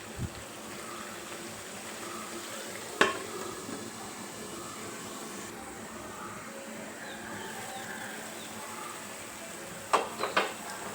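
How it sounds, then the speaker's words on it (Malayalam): Egg curry simmers in a pot after hot water is poured in, giving a steady, soft bubbling hiss throughout, with a few brief utensil clinks near the start and end. "ഇതൊന്ന് നന്നായി തിളച്ച് വരട്ടെ"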